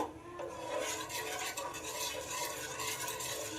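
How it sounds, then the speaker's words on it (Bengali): A sour-yogurt mixture is stirred in a pan over a low gas flame, giving a steady close scraping and swishing of the spoon against the pan that continues without pause, with no voices. "এবার গ্যাসটাকে অন করে সব কিছু মিশিয়ে দেব"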